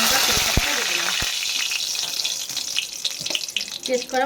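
Hot oil in a kadai sizzles and crackles loudly up close, a continuous hiss with sharp pops and a few clinks of a utensil.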